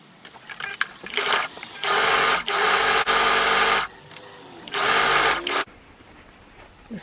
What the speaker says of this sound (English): I'm going to stitch my cuff